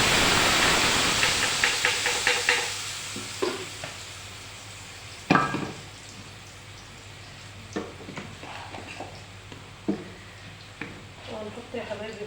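Tomatoes dropped into a hot frying pan of fried tomato paste sizzle loudly at first, then settle into a softer hiss with repeated scraping stirs and clinks; a voice talks briefly.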